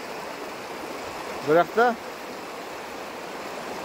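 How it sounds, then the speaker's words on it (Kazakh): The Ulba river flows in a steady, broad rushing wash that runs constantly throughout. A voice briefly speaks over it in the middle. "Қараңыздар, үлкен өзен негізі мынау."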